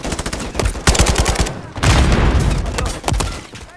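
Enemy turret machine gun fire in Call of Duty: Modern Warfare III, with loud, close rapid bursts broken by a brief lull and heavy booming impacts, all set among battle noise with some shouted voices.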